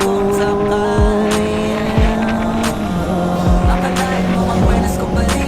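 A Kawasaki ZX-4RR motorcycle engine revs hard in a steady, loud drone, with several sharp throttle blips spaced about a second apart, and a voice briefly audible.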